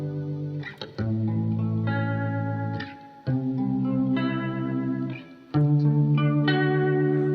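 Electric guitar through a Walrus Audio Fundamental phaser with depth turned low, giving a fast, tremolo-like pulsing. Strummed chords ring out in several sustained phrases, loud and close, with a little echo and no talking.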